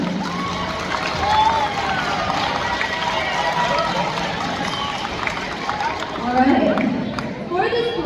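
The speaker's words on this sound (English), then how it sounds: "please give it a round of applause for all of our 8th graders" A school band concert crowd applauds graduating 8th graders, a broad, sustained wash of clapping with some cheering and chatter that swells slightly near the middle and again toward the end.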